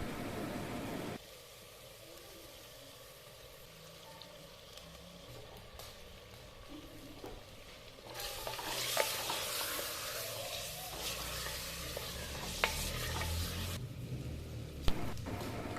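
Chicken sizzles in a pan at low level, growing louder and busier partway through after garlic and ginger paste is added, with occasional clinks and scrapes from stirring.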